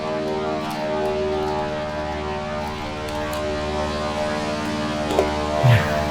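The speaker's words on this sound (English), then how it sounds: "that's a float plane taking off" A float plane takes off from a water runway in a northern town, its propeller engine a steady, loud drone that holds without a break, with a brief knock near the end.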